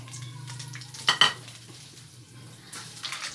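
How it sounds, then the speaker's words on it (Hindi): A quiet, steady sizzle of four green chillies frying in ghee in a kadhai, with a couple of sharp metallic clinks from a spoon against the pan partway through. "एक कढ़ाई में हमने घी ले लिया है, उसमें डालेंगे 4 सब्ज़ मिर्च। इसको थोड़ी देर पकाएंगे"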